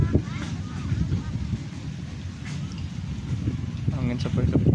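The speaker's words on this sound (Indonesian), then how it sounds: "Angin sepoi-sepoi ini," Steady breeze rushing across a lake, heard as a soft, continuous whoosh with low rumbling buffets on the microphone and a distant hum beneath, with no clear voices.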